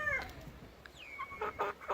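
Ixworth chickens, young cockerels and hens on a smallholding, cluck and call in a few short bursts, close and moderately loud against a quiet background.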